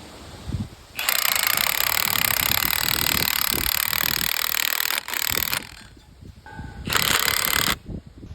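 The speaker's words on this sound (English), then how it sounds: "5/8 inch screw going into concrete" A 5/8 inch screw is driven into concrete for permacolumns on a post frame pole barn. It makes loud, harsh hammering bursts, one long run of about four and a half seconds and then a shorter one, with no talk.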